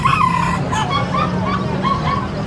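A native chicken clucks and crows faintly amid the noisy bustle of a pet and livestock market, with a busy crowd murmur and traffic-like rumble all around.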